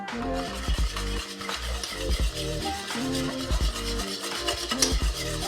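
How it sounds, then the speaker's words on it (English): A whisk beats pastry cream vigorously in a pot as it comes to a boil, with quick rhythmic scraping and clinking of metal against the pan, repeating in short bursts. "Best to switch to a whisk at this point."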